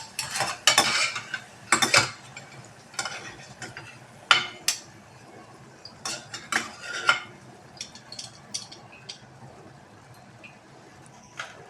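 Onions fry in oil in a pan until crisp, with a soft sizzle under repeated sharp scrapes and clinks of a spatula stirring against the pan, loud at first and then sparser.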